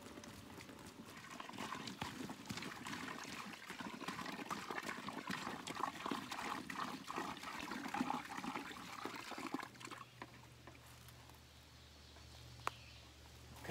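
Water poured into a canvas bag of mineral mix for a deer lick outdoors, a soft continuous splashing and gurgling that runs for about ten seconds before fading to quiet background with a faint low hum.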